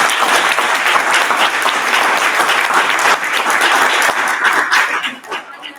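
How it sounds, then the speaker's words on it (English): An audience at a Toastmasters speech contest applauds the contestants, a dense sustained burst of clapping that fills the room and fades out at the end. "big round of applause for everyone"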